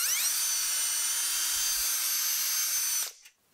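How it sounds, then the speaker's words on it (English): A power drill bores out a rivet, a loud continuous whine that rises as it spins up, holds steady for about three seconds, then stops abruptly. "The trick is not to just drill straight through the rivet, but to rock your drill tip back and forth or side to side"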